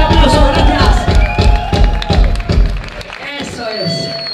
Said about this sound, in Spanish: fuerte aplauso, gracias